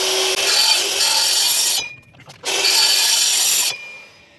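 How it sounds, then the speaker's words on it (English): A plunge saw cuts into wood for a newel post on an existing staircase, with two loud, close, sustained rasping passes separated by a short pause. "I'm going to do 10-15 mil at a time, so I don't destroy my blade"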